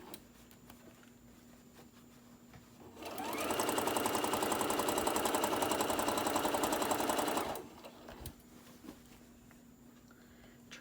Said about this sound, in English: Try to sew as straight as you can.